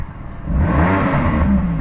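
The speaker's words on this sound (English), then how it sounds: "you'll hear the baffles and the Valvetronic exhaust die down" A 2015 BMW M4 with a 3.0-litre 426 bhp engine and Valvetronic exhaust idles close by, its loud, steady burbling drone settling into a smoother, quieter note as the exhaust baffles close.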